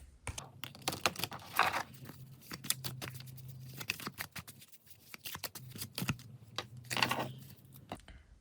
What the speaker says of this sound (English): in terms of shuffling, it's a bit awkward because of the shape, but you can do it